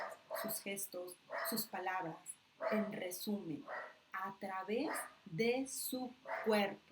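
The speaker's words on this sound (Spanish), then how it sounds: "Una disculpa por los ladridos" A small female dog barks and yips now and then under steady, close speech from someone talking throughout.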